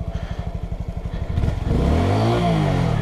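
Motorbike engine ridden without the clutch, a close, loud throbbing idle that surges into a rising rev, the pitch climbing steadily and holding high at the end.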